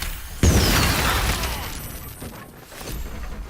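A trap goes off in the video game Baldur's Gate 3 with a sudden loud boom. Crackling debris and a rumbling tail fade over the next few seconds.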